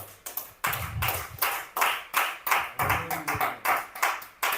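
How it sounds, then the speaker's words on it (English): An audience at a property sales training event claps in a steady rhythm, with sharp, evenly spaced hand claps repeating for several seconds. There is no talk over them. "Can you clap for them?"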